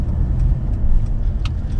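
A Chrysler 300 with an inline-four engine drives along, its steady low engine and road rumble filling the cabin, close and continuous, with a faint brief rattle partway through.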